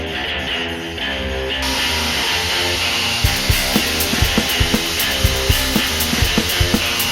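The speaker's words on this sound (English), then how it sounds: "and we'll use a jigsaw to finish it off." Jigsaw cutting through a computer case panel during a small-form-factor case mod, a continuous loud buzzing saw with rapid rhythmic blade chatter growing more pronounced in the second half.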